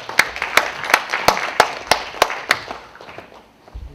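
Sparse, evenly spaced claps ring out in a quiet hall as a small audience at a Korean public forum on urban parks welcomes a speaker, about eight sharp hand claps that fade away toward the end.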